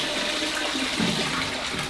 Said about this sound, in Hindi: यहाँ से आप फ्लश कर सकते हो